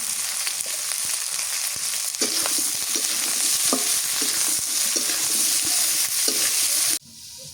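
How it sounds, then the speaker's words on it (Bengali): Pointed gourd (potol) frying in a pan with salt and turmeric in a village kitchen, giving a steady loud sizzle with scattered stirring taps against the pan before it cuts off near the end. "পটলটা ভাজি করি আধা কাঁচা করে ভাজি করি"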